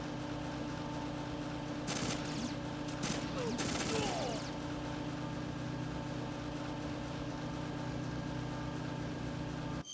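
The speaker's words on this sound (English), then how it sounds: "That was a lot of bullets." Bursts of gunfire from the video game Metal Gear Solid 2, a rapid cluster of shots over a steady droning game background, fairly loud and close, with no talking.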